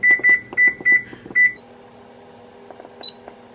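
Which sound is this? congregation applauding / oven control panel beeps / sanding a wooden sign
oven control panel beeps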